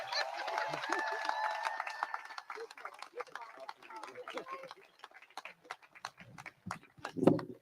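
Crowd claps and cheers outdoors at a statue unveiling in Columbia, a burst of applause that fades into scattered claps with voices talking over it.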